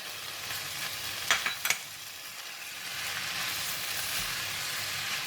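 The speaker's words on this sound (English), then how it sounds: "Now I'm going to put in the tofu and the egg, the spring onions and the parsley." Mee goreng with tofu, egg, spring onions and parsley stir-frying in a pan, giving a steady broadband sizzle with two brief scraping stir strokes early on, close and moderately loud, no talking.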